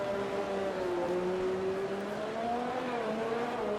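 Race car engine from a racing video game, a McLaren on a wet track at the Dutch Grand Prix, holding a steady droning tone that shifts pitch gently as it rolls along, continuous and fairly loud with no talk.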